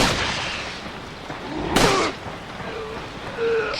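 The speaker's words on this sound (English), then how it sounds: "I'm not a great shot, but I shoot you in the eye." Single sharp gunshot in a video game, a loud broadband crack about midway through, standing out over a low rumbling game background with faint tonal effects afterward.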